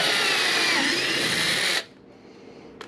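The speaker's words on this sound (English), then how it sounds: "So we're gonna drill again." A power drill whirs loudly and steadily for a couple of seconds while drilling into a Vibe Shearwater 125 kayak, then cuts off abruptly, leaving a quiet hum and a brief click.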